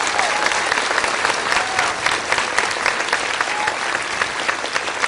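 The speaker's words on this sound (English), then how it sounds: "give them a round of applause because they're something else" A crowd at a Joe Biden campaign stop in Sioux City applauds rescuers, loud, sustained clapping filling the hall evenly from start to finish.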